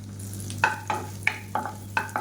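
Garlic and ginger sauté gently in butter, a faint sizzle under six or so quick, evenly spaced spatula strokes against the pan, no talking.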